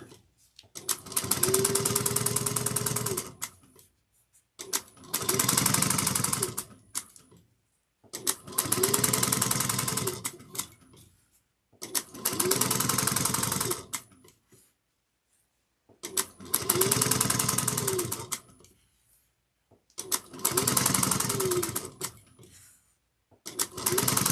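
A sewing machine back stitches a crossbody strap onto a tote bag in seven distinct bursts of rapid mechanical whirring and needle chatter, each a few seconds long with short pauses between, close and clear.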